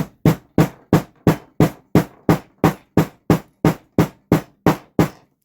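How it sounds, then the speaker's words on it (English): A hammer pounds the thick end of a crossbody bag strap flat, thirteen sharp, loud, evenly spaced blows ringing out close up with no talking. "Hammer the hell out of the end."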